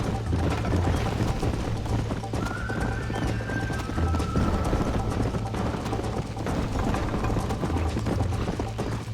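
Horse galloping in the video game Red Dead Redemption, with continuous rhythmic hoofbeats, a brief whinny, and a steady engine-like hum underneath throughout.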